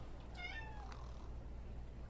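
In The Sims 2, a cat gives a single clear rising-falling meow to be let inside, close and alone over a low steady background hum, with no voices.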